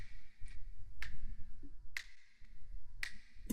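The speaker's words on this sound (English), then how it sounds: "And then some finger snaps from Swing as well." Crisp finger snaps from a swing sample library repeat at a steady, roughly one-second interval, close and distinct, over a faint low background hum.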